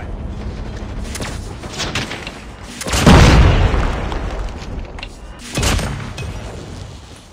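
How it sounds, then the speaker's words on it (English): A predator missile explosion in Call of Duty Mobile lands as a loud booming blast midway through ongoing gameplay noise and rumble, followed by a second smaller impact shortly after. "Friendly predator missile inbound."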